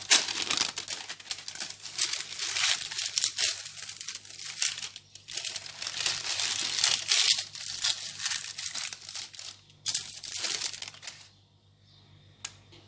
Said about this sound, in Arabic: غادي نجيب دابا ورق الخبز، غادي نوضعو بحال هكذا